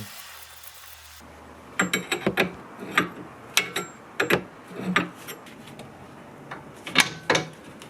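Clicks and metallic ratcheting from tightening the tie rod end nut on a Porsche 986 steering linkage, a run of sharp close taps and pawl clicks in irregular bursts, with no talking.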